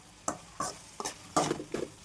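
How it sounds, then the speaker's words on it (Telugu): Okra frying in oil in a kadai, heard as about five quick, quiet scraping stirs over a faint sizzle, with no talking. "ఇప్పుడు ఫ్రై చేస్తున్నా."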